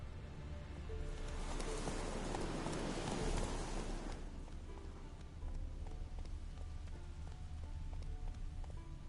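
Geralt's horse Roach gallops in The Witcher III game, a rapid rhythmic clip-clop of hooves running steadily throughout, mixed with a rushing wash of noise that swells loudly in the first few seconds before settling.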